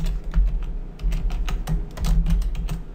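A name being typed on a computer keyboard: a quick, steady patter of close, crisp key clicks with brief pauses, and no voices.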